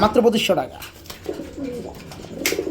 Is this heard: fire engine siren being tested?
no